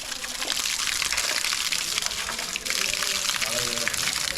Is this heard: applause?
no